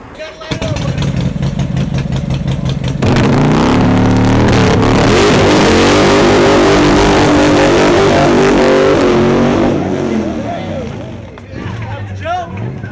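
A 1979 Harley shovelhead engine in a Paco rigid frame roars loudly and close, revving hard in a sustained burst before easing off, with crowd babble and voices mixed in throughout.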